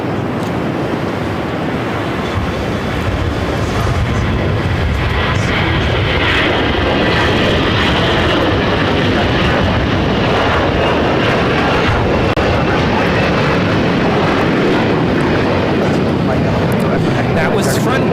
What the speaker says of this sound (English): That was Frontier 4964 taking off to Dallas Fort Worth on an A321 in the Falcon livery